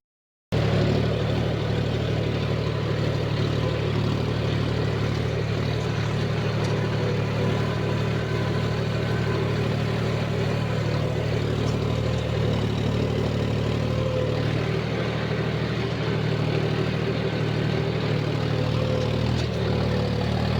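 A John Deere 5050 tractor engine runs with a 14-inch plough in a wet field, holding a steady low droning rumble, loud and continuous throughout.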